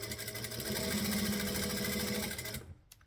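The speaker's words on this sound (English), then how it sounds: "you would take all of your straps and you would sew one side like this" A sewing machine stitches across a stack of fabric straps with a fast, steady mechanical whir close by, then stops abruptly near the end.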